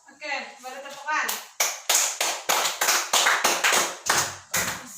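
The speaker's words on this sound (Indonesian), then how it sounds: "baru tepukan." A voice is followed by a classroom group clapping in a quick, rhythmic pattern of about a dozen sharp, even claps, close and loud.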